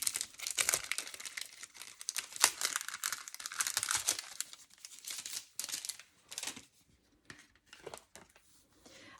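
Paper cut-outs and a plastic embossing folder being picked up and shuffled, giving a close run of crisp crinkles, rustles and small taps that is busy at first, then thins into sparse separate rustles.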